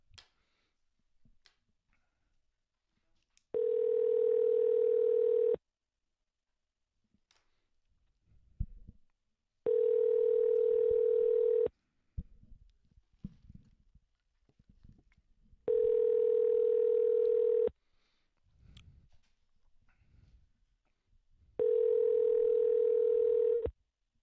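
Four long, steady telephone dial tones, each lasting about two seconds, repeat at regular intervals while placing sales calls, with faint clicks and quiet background noise in the gaps between them.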